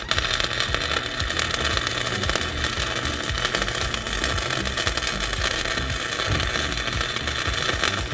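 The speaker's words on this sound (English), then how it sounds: "see if I can't fit my welder in between and weld the nut on the top" An arc welder buzzes and crackles in a steady, harsh hiss while welding a nut onto a bolt on an Audi, continuous and close, with no talk.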